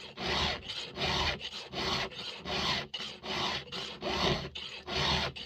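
A hand file sharpens a chainsaw chain for cutting firewood, making about ten rhythmic rasping strokes, each a loud, close scrape separated by brief pauses, with no speech.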